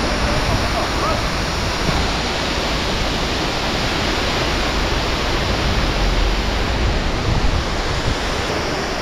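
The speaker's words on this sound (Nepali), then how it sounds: "हामी पुग्छौँ अक्टोपस झरनामा जुन यस्तो देखिन्छ" The Octopus waterfall in Manang, Nepal, pours with a dense, steady roar that fills the air at close range without pause.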